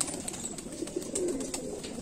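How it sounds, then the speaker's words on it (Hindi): Soft, low pigeon cooing from an old Kamagar-type show pigeon with pearl eyes in a Jammu loft. It comes as a steady muffled murmur with faint rustling. "ये सबसे पुराना कबूतर है।"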